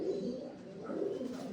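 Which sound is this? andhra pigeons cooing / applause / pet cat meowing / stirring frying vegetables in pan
andhra pigeons cooing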